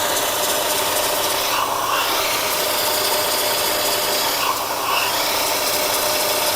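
Continuous grinding, whirring noise of an annular cutter drilling through steel plate at 165 RPM, loud and steady, with two slight dips in pitch along the way.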